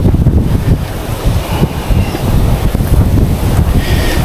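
Steady mountain wind on Mt. Talamitam buffets the microphone, a loud continuous rumbling roar with gusty swells throughout and no voices.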